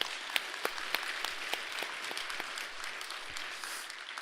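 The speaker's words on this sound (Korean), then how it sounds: "다시 한번 좋은 논문 써주신 김진모 선생님께 큰 박수 부탁드리겠습니다" A seminar audience claps for a scholarly paper presentation at a Buddhist academic event, a modest, thin applause of scattered individual claps, fairly soft and short-lived.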